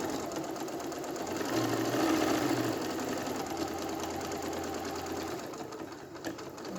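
Domestic sewing machine stitching around the neckline of a lined tabard, a steady close mechanical whir of rapid needle strokes running throughout, easing slightly near the end.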